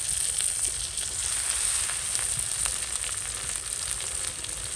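A flour blend fries in a pan with a continuous close crackling sizzle and small pops spread evenly throughout, with no voices.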